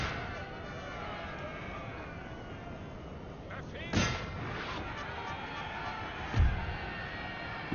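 Battlefield noise from the Napoleon Total War video game, with a steady wash of massed musket fire and a couple of heavier artillery booms standing out over the constant din.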